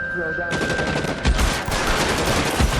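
Gunfire in the L.A. Noire video game, a rapid burst of loud, sharp shots crackling in quick succession after a brief quieter moment, with a steady high electronic tone running underneath.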